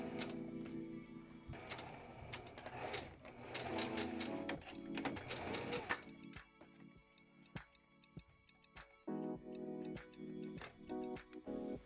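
A home sewing machine stitches a seam in fabric, running in steady bursts with short reversals for backstitching, then stopping and starting again with a few clicks and taps between runs, close and clear.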